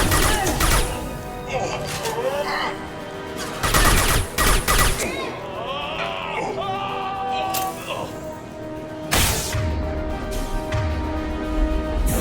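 Rapid gunfire bursts from the Mass Effect 2 video game, loud and repeated, with several heavy volleys amid music and other game effects, with speech-like voices mixed in.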